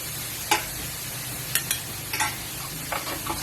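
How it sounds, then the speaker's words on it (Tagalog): Pad Khra Pao stir-fries in a pan with oyster, fish and soy sauces under a steady sizzle, broken by several sharp scraping strokes of the spatula against the pan. "continuous lang natin siyang stir fry hanggang sa maghalo-halo lahat"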